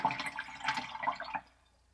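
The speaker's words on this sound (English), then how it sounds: "now I'm going to clean my toothbrush" A toothbrush used for watercolor painting is swished and rinsed in a small container of water, making about a second and a half of quiet, close sloshing and dripping before it stops.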